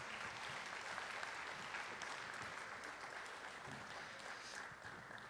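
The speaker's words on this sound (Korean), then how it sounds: "다시 한번 우리 뜨겁게 박수 한번 하시겠습니다." A church congregation applauds after the Deborah choir's hymn, steady dense clapping from many hands filling the room for several seconds without a break.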